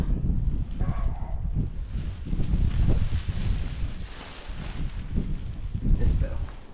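Strong wind buffets the microphone outdoors while a tent is being packed up, a loud continuous rumble with gusty swells, and a person speaks over it in places.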